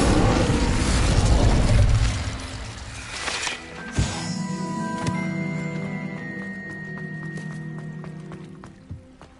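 A fire spell cast in Hogwarts Legacy on PS5: a loud whooshing, roaring burst for about two seconds, then a sharp impact pop, followed by softer lingering magical tones and a ringing tail as the effect fades.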